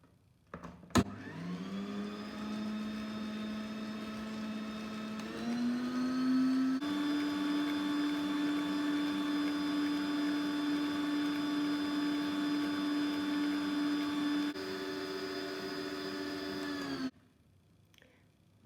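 Electric hand mixer creaming butter and sugar for butter cookies, a steady close whine that shifts pitch slightly as the speed changes, running alone for about sixteen seconds before cutting off.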